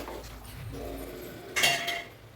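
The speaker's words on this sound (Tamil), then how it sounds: "சிக்கன் போட்டு நல்லா மிக்ஸ் பண்ணிக்கலாம்." Chicken being stirred into masala in a small, shallow clay pot for Chettinad chicken gravy, with a scrape and clink of a spoon against the pot, louder near the end, no talking.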